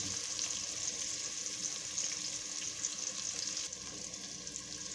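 Puchero ingredients sauté in a hot pan with garlic, pepper, salt and fish sauce, giving a steady, even sizzle and crackle that continues without a break.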